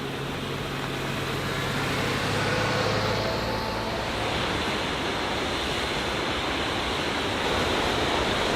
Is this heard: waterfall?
yes